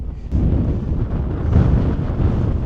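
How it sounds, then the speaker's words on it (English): Steady broadband wind gusts buffeting a tent at a quiet midweek campsite, a dull continuous rumble that swells and eases over a few seconds with no voices. "Just take my word for it, it's a bit windy"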